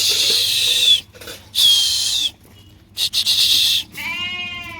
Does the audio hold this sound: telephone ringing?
no